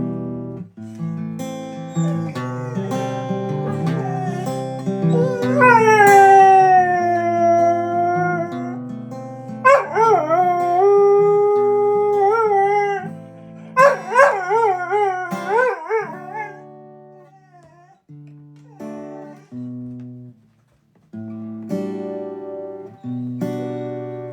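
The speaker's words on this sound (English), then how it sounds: "What are you barking at?" A dog howls in long, wavering, drawn-out cries with a few yips and whimpers between them. Close and loud, with brief pauses.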